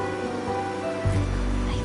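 Steady rain pours in the video game Wuthering Waves, a dense hiss with a heavier low wash from about the midpoint, mixed with sustained musical tones and no talking.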